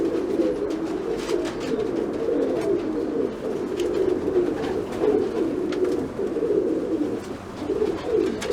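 Tippler pigeons coo in a steady, low, rolling murmur close by, with several birds overlapping throughout.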